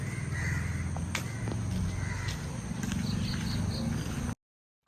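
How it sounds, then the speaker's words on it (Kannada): Crows caw in the early morning outdoors in Kapu, Udupi, a few harsh calls rising over a steady low rumble of ambient noise before the sound cuts off. "ಆಹಾ ಪಕ್ಷಿಗಳು ನನಗೆ ಮುಂಜಾನೆಯ ಶುಭಾಶಯವನ್ನು ಕೋರುತ್ತಿದೆ"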